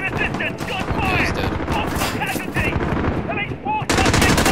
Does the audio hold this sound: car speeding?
no